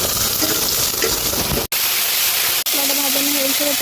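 Onion and potato frying in a pan with salt, turmeric, ginger-garlic paste and dried red chili paste, giving a loud, steady sizzle that briefly cuts out twice, with a voice faintly audible toward the end.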